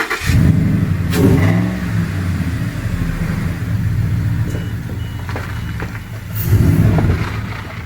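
A damaged Ford F-150 pickup under repair is driven slowly to be parked, its engine rumbling steadily up close with a couple of louder revving surges, alone with no talking.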